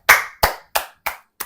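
Five distinct, close hand claps in a steady rhythm, each sharp and crisp with a short decay, gradually getting softer, with silence in between.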